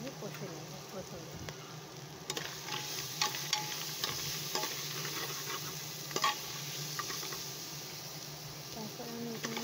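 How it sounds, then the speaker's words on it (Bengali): Lentil dumplings that were fried earlier get stir-fried in spice masala in a pan. A steady sizzle runs throughout, with occasional scrapes and clinks of a utensil against the pan. "বড়িটা ভালো করে মশলায় আমি কষে নেব প্রথমে।"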